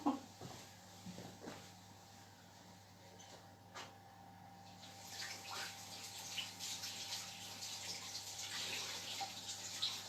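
A spatula is rinsed under a kitchen tap: a few faint knocks and clinks of the utensil come first, then steady running water rises in the second half, close and moderately loud.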